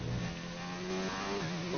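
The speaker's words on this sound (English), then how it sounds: "now turn up the engine to its maximum revs" F1 racing car in the F1 2019 video game at the Bahrain International Circuit, its engine held near maximum revs in a sustained, loud, high-pitched whine with slight pitch wavers.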